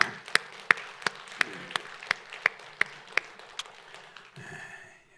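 A church congregation claps together in a steady beat, about ten sharp, evenly spaced claps at moderate volume, before the clapping stops and a faint voice follows.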